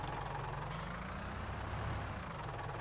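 A small, affordable tractor engine idles steadily in Farming Simulator 19, a low, constant rumble heard up close with no talk over it.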